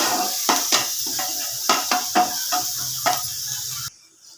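Green chilli and chopped coriander stems sautéing in a pan: a spatula scrapes and knocks against the metal in a quick irregular series of about eight strokes over a steady, close hiss, which stops abruptly near the end.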